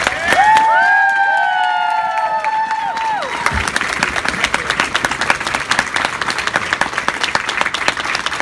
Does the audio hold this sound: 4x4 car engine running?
no